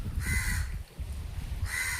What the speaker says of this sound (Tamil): காக்கான்னு கத்திக்கிட்டு கிடக்கு.